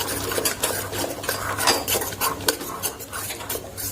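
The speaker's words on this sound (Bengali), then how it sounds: "খুব ভালোভাবে এটা ফেটিয়ে নিতে হবে।" Gram flour (besan) batter for sweet boondi is whisked in a bowl, with fast rhythmic clicks and taps of the utensil against the sides. The sound is quiet and close, with no talking.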